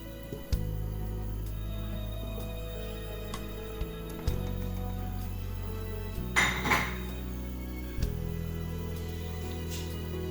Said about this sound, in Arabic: في طنجرة حطيت شوية زيت، نحط أطراف الدجاج